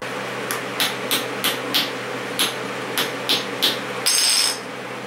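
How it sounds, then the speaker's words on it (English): A hammer strikes a punch driving it through leather for a cross-draw knife sheath: about ten sharp metallic taps in a fairly steady rhythm, close and crisp over a low background hum, with a brief ringing rattle near the end. "I'm going to give it a couple more good whacks just to make sure, for good measure."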